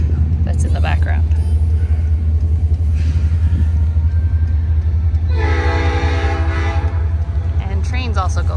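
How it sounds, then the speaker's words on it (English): A train passing along the Fraser River, heard outdoors as a steady low rumble with a horn-like tonal blast midway and people talking over it. "And trains also go by in this area."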